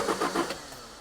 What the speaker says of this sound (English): So I turned the key while trying to look, and it fired.